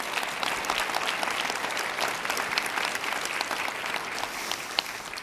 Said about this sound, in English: Another round of applause for these folks.